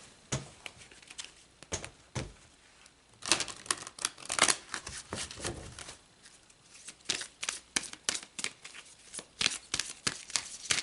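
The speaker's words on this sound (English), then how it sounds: "So let's pull another card." Tarot cards are shuffled and pulled close to the microphone in a run of quiet, crisp riffles, flicks and snaps, irregular and clustered with short pauses, with no talking.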